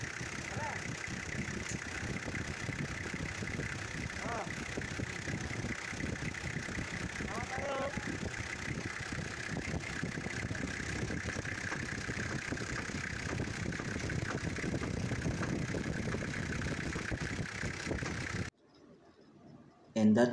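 Car engine idling steadily after a camshaft seal replacement, a constant moderate hum with occasional bird calls in the background, cutting off abruptly near the end.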